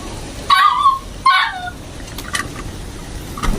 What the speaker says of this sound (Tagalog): Tinatahol agad nila.